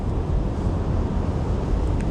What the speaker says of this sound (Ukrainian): Ще плюс зустрічний вітер.